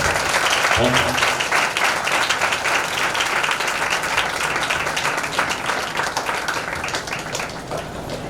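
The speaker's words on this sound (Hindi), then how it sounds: "परमेश्वर के दास को ताली देकर जोर से बोलो।" An audience at a church Bible study claps loudly. Dense, continuous applause fills the whole stretch and tapers slightly toward the end.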